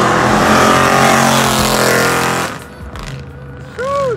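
A loud car engine roars past at an AWD Charger R/T versus RWD Challenger R/T street race in Mexico, a strong, sustained blast that drops off after a couple of seconds and leaves distant noise with a brief whistle.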